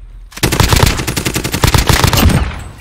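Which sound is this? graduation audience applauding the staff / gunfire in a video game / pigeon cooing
gunfire in a video game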